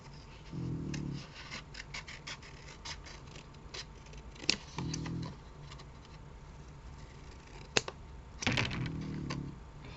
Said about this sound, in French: Je galère avec mon ciseau.